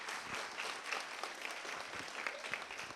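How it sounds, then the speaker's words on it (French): Audience applause fills the room as a welcoming ovation at a student gathering, with steady, dense clapping heard from a distance at low volume and a few sharper claps standing out. "Applaudissez là très fort,"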